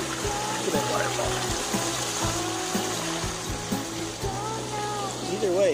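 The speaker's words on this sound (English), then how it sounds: "Look at that waterfall." Garden pond waterfall in a San Diego-area backyard, a steady continuous splash and trickle of falling water, close and even throughout, with low background rumble.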